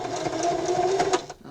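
A sewing machine stitches a wrist pincushion in a short, fast mechanical whirring run, close and steady, then stops abruptly.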